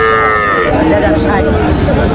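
A young bull calf at a cattle market in Dinajpur, Bangladesh, lets out one loud, close, drawn-out moo that wavers in pitch, with market chatter faintly underneath.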